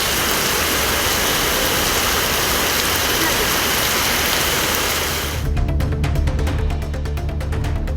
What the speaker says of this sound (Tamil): இரவு நேரத்தில் பல்வேறு பகுதிகளில் கனமழை பெய்தது